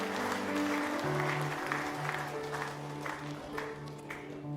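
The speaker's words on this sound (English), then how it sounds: "Let's just give the Lord another huge clap offering." Church congregation applauding as a clap offering to the Lord during a combined service, a steady wash of many hands clapping with a sustained musical tone underneath, moderately loud throughout.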